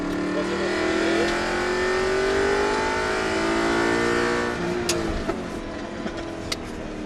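A car engine revs hard and climbs steadily toward the rev limiter, loud and close, before easing off. A few sharp clicks and knocks come near the end.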